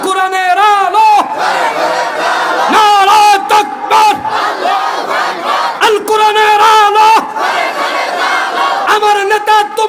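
A large crowd at an Islamic gathering shouts a takbir chant together, loud and close, voices rising in repeated unison calls that swell and break over about ten seconds.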